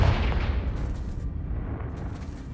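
A Confringo fire spell blasts in Hogwarts Legacy on PS5, a loud low rumbling burst at the start that fades into a long, sustained roaring tail.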